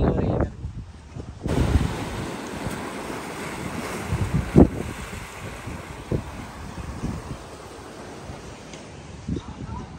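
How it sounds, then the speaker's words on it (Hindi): Strong wind blows steadily and waves break against a seaside hotel built over the water in Karachi, with gusts and bursts of spray over the constant roar. "गर्मी भी है लेकिन हवा बहुत तेज़ चल रही है"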